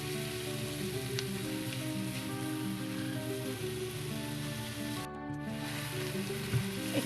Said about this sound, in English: I am just browning the beef on high flame